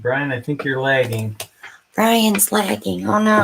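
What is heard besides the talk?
No everyday noises stand out.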